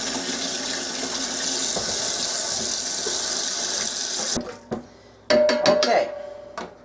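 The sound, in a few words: water running over cooked beets to cool them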